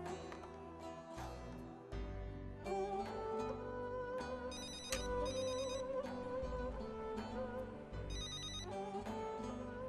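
A phone call rings out as a repeating electronic melodic ringtone, loud and close, cycling in regular bursts with no one speaking.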